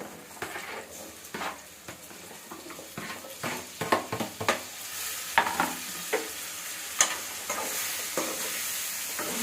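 Mixed vegetables coated in masala fry in a pan for vegetable pulao while a spoon stirs them, with a steady sizzle broken by close scraping and clinks against the pan.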